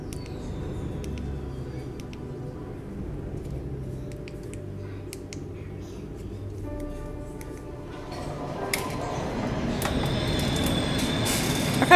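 Train ride in the horror game Cry of Fear, a low rumbling carriage drone with faint rhythmic clicks and metallic ticks, growing louder and busier toward the end.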